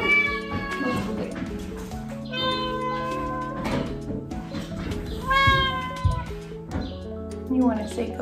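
A cat meows repeatedly in a morning home setting, with several loud, close, drawn-out and wavering calls across the span while a person speaks nearby in between.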